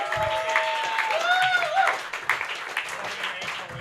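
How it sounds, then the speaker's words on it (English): A comedy roast battle audience in New York applauds as a judge is introduced, with a dense burst of clapping and a few high whistles and cheers, fairly close and sustained throughout. "Please clap it up for Steve Wrigley,"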